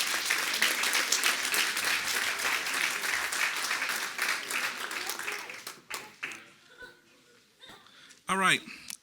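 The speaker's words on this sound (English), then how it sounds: "let's give Jayliana another round of applause" Sustained applause from a school board meeting audience honoring a student award winner, dense clapping for about six seconds before fading into scattered claps, brief chuckles and voices.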